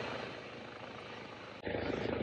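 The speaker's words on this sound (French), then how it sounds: "je pense que l'hélicoptère va aller vers Sierre" Helicopter flying overhead toward Sierre in the Swiss countryside, a loud steady rotor roar that holds for most of the moment, then shifts abruptly to a nearer, harsher tone.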